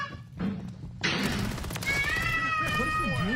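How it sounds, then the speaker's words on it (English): A cat meows under loud game noise and crashing sounds in a Call of Duty: Modern Warfare III multiplayer match, a drawn-out wavering cry close to the listener, with people talking over it. "Worthless cat."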